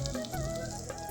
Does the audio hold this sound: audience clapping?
no